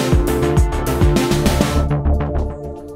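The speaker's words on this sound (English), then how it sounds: "There is a marching band practicing outside my office." A marching band practicing outdoors, brass and drums playing loudly with punchy rhythmic hits, then the band thinning to lighter, softer notes.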